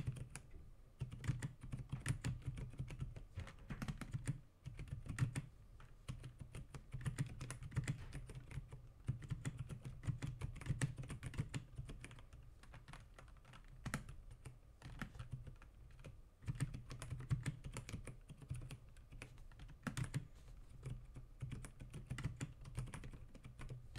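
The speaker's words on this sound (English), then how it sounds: "let's do a quick typing test with just the switches before any mods" Steady typing on a mechanical keyboard, keys clacking in a quick, continuous rhythm close up, with brief pauses now and then.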